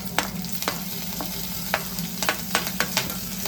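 Garlic and green chillies fry in a pan with a steady low sizzle, broken by several sharp scrapes and clinks of a stirring spoon, close and clear, with no talking.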